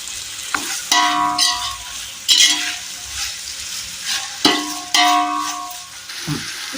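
Onions and tomatoes sautéing with salt in a pan for chicken biryani, a low sizzle broken by several loud scraping strokes of a spoon stirring against the metal.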